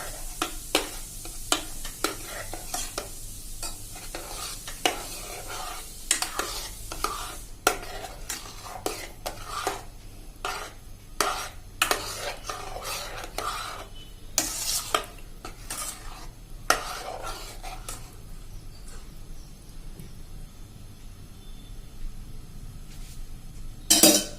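Milk cream (malai) melting in a pressure cooker for ghee, stirred with a metal spoon that scrapes and clinks against the pot in frequent short strokes over a steady low sizzle, with no one talking.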